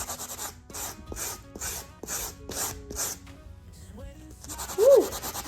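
A metal magnet find is sanded by hand in about seven even, rhythmic scraping strokes, then a short pause and a faster rasping run with a brief squeak near the end.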